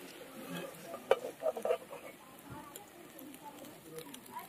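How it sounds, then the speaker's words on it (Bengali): Bengali flower-shaped pitha fry in hot oil with a faint, steady sizzle. A cluster of louder crackles and spoon clatters comes early, and a voice talks softly over the frying. "দিয়ে দিলাম, এবার এগুলো ভাজা হোক।"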